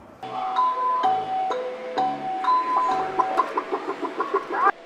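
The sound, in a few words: robotic chicken clucking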